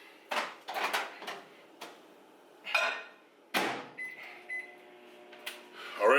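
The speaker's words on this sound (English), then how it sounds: "I'm gonna put that in the microwave for 4 minutes." Sharp clicks and thumps from a microwave oven door and buttons give way to a few short electronic beeps, then the oven starts, close by in a kitchen.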